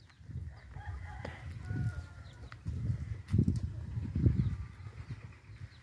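On a farm where ducks and chickens are kept, chickens cluck and call softly at a distance, mixed with low rustling and thuds in the ground-level background noise.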